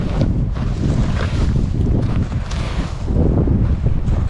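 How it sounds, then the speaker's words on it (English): Wind blows hard outdoors at a pine-needle campsite, a steady loud rumbling buffet against the microphone with gusty surges throughout. "The wind right now is coming in this direction"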